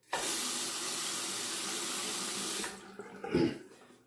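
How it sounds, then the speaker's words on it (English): A bathroom tap runs hard to wet a Clix razor before a shave, a loud, steady gush that cuts off after about two and a half seconds, followed by a few faint splashes and clinks. "Let me wet the razor."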